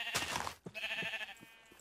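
A black sheep in Minecraft bleats a few times in short, wavering calls, close and clear with no talk over it.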